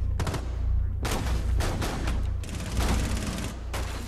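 Repeated shotgun blasts from a Rainbow Six Siege match, loud and close in quick bursts with short gaps between volleys.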